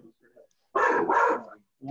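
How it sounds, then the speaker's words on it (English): A dog barks twice in quick succession, loud and close, during an online video call. Faint voices come before the barks and pick up again right after them. "Whose dog was that?"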